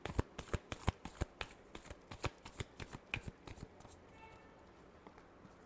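A deck of tarot cards is shuffled up close, giving a quick series of crisp riffling snaps in a steady rhythm that thins out and stops near the end.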